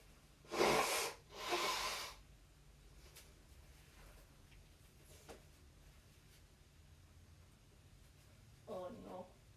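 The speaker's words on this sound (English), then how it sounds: "I need to quick blow my nose." A person blows their nose nearby in two strong, breathy bursts, then stays quiet with faint room noise until a shorter blow near the end.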